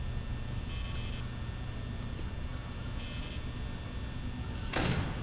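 A security door slides shut in Five Nights at Freddy's over a steady low electrical hum, with a bright mechanical clank near the end.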